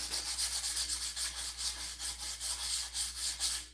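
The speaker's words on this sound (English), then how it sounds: "Let's sand this down a little bit." Wood edge banding is sanded by hand in steady back-and-forth strokes, about four per second, with an even raspy rubbing that stays close and continuous before stopping abruptly.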